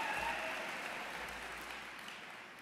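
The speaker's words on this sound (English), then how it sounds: "you don't have to applaud that" An audience applauds at a talk, a dense wash of clapping that holds steady and slowly tapers over a couple of seconds.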